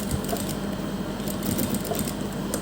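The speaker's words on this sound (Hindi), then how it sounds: "उसी शेप में तीसरी स्ट्रिप को रखते हुए इस तरह से हम इसके ऊपर भी सिलाई लगा देंगे" A sewing machine stitches a fabric strip onto a neckline design, giving a fast, even, continuous whirring rattle at close range with no pauses.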